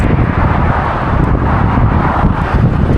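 Loud, steady wind buffets the microphone in a continuous low roar, with a rushing, traffic-like background and no voices.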